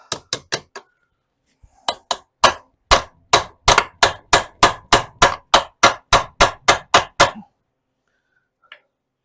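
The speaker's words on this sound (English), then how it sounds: "I want to see if this hammers off before I go heating everything and making it hot." Sharp metal-on-metal hammer strikes on a VW Beetle transmission part being knocked loose: three quick blows, a pause, then a long steady run of about twenty loud, evenly spaced ringing hits, close up with no talking.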